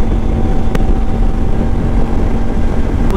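A CFMOTO 800MT motorcycle rolls along on auto cruise with the throttle released, giving a steady, loud roar of engine drone and wind rush with no change in pace, plus a couple of faint clicks.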